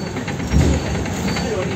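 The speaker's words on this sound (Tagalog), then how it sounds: "Yang ang sinakyan naming train, yung blue." Train at Mestre station near Venice, a blue train on the Udine to Venice Santa Lucia line: a steady rumbling hum of engine and rail noise with a brief louder low swell, heard close and continuous.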